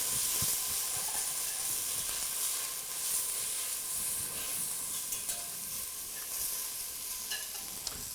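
A spoon stirs marinara sauce with spices and herbs in a hot pan, a soft, steady sizzle and scraping that runs throughout at a low, close level with no voices.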